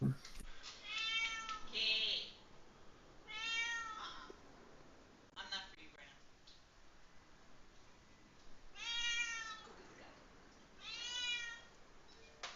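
A house cat meows repeatedly in an indoor office, four or five drawn-out, rising-and-falling cries spaced a few seconds apart, fairly close and heard with no talking over them.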